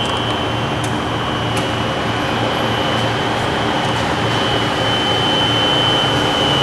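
Car engine idling with the air conditioning compressor engaged and the condenser fan running, a steady, dense mechanical drone and whir with a faint high whine, close and continuous without pause.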